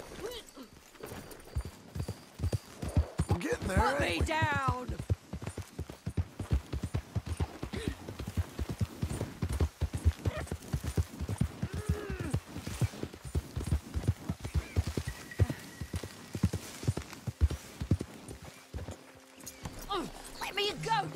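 Horse hooves clip-clop at a steady walking pace in Red Dead Redemption 2, close by and continuous beneath shouting and talking voices, with a brief whinny-like cry.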